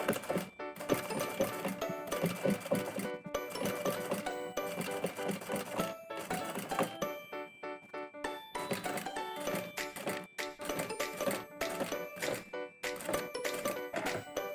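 A sewing machine stitching the seam of a Línea handbag runs in quick bursts of rapid needle clatter, pausing briefly and restarting, steady and close with no talk.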